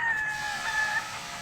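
Chickens on a small Filipino poultry farm, a soft high call drawn out for about a second over steady background noise, fairly faint and with no talk.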